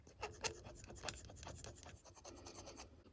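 A marker or scribe scratches a mark onto a metal brake line tube on a 1955 Chevy truck, giving several short, close rubbing strokes with no talking.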